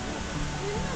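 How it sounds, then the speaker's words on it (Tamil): A waterfall roars steadily in a dense, even rush of water, close and continuous for about a second. "அந்த வாட்டர்ஃபாலோட தண்ணி சத்தம் கேட்குது"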